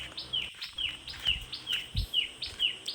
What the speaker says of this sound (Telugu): ఎంతైనా పిట్టలు అరుస్తున్నాయి.